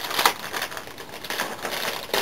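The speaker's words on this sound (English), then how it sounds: "I'm just going to rip this thing open." Close crinkling and crackling of a plastic mild cheddar cheese package comes in a few brief bursts as the wrapper is pulled and strained at.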